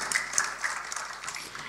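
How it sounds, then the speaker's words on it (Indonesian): A church congregation gives a brief burst of applause during a sermon, a dense, even patter of clapping lasting under two seconds. "boleh tepuk tangan"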